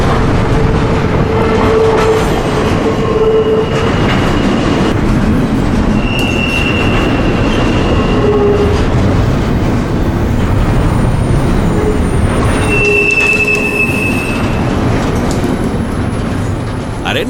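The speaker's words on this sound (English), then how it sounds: "There's something about the symmetry of a long string of double-stack containers." A long double-stack container freight train rolls past close by, loud and continuous, with rumbling wheels, clickety-clack and occasional high wheel squeals.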